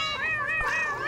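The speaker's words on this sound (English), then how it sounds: "Whoa, it's my cat." A cat meows in the horror game Dread X Collection 5: Resver: a single drawn-out, wavering, fairly loud call lasting about a second, with no talking over it.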